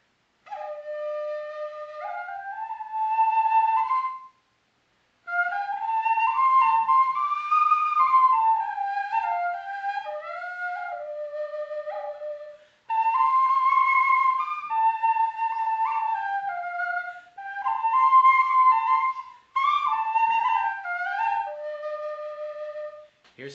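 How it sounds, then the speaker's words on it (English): A replica Jiahu crane flute, a pentatonic bone flute, plays a breathy whistling melody in several phrases separated by short pauses, clear and fairly close, with no talking. "the Jiahu crane flute"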